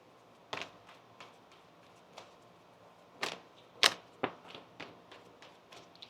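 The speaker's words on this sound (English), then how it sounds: "One more shuffle here." Tarot cards are shuffled in a quiet room, giving a series of sharp, close riffling snaps and taps spread irregularly over several seconds, with no talk.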